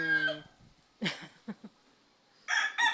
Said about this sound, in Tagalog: Nakisabay ang tilaok ng manok.